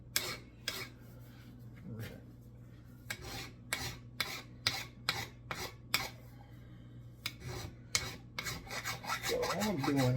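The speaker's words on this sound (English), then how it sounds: "I'm just filing that. I'm trying to get it down flush with the wood" A metal point on a gunstock is filed down flush with the wood in close, repeated rasping strokes, each stroke a short scraping burst with brief pauses between, over a low steady background hum.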